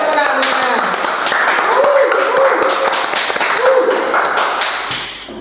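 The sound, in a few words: audience clapping at podcast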